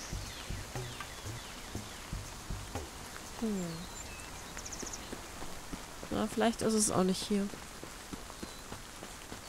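Rain falling in the video game Spirittea, a steady soft patter beneath a person talking and occasional chiming game tones.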